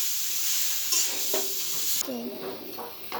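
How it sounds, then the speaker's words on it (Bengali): Chopped tomatoes fry with fried potatoes for a thin drumstick curry, a soft sizzle under a few sharp scrapes and clinks of a spoon stirring against the pan. "এবার দিয়ে দেব কেটে রাখা টমেটো। সব একসাথে ভালোভাবে হালকা ভেজে নেব।"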